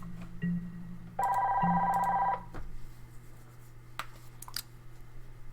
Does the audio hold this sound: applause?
no